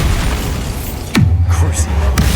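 A Bombarda blast spell from the Hogwarts Legacy video game bursts as one sharp boom, followed by a low rumbling tail and a softer crack, set against a busy game background.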